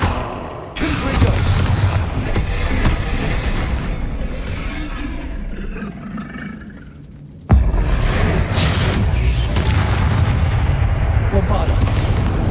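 Repeated booming fire blasts from the Confringo explosion spell in the Hogwarts Legacy video game, loud and heavy, with a second burst arriving partway through.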